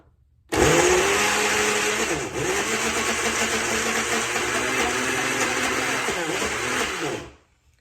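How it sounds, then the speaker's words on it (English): A blender motor starts abruptly and runs at a loud, steady whir for about seven seconds, blending sardines and cheese, then cuts off and spins down. "we're going to put it in our handy dandy blender and turn it on"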